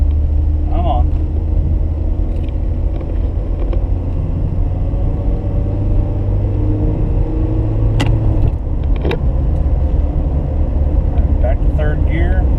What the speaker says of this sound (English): I'll put it in second gear and give it some chance of leaving a stoplight here.